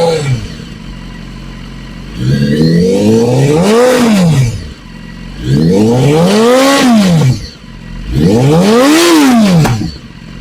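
A BMW HP4 motorcycle with an Akrapovic exhaust is revved three times from idle, each blip rising sharply in pitch and loudness then falling back, loud and close.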